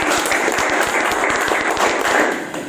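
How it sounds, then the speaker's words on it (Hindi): An audience at a Safeshop training event applauds with brisk, rhythmic clapping that holds steady and loud, then fades a little toward the end. "आज मैं हमारे महापुरुष जी को एक बार ताली बजाना चाहूंगा, गौरव शर्मा जी के लिए"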